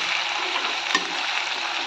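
Taro greens fry in an old, blackened wok with a continuous, even sizzle, broken once by a small clack, and nobody talking.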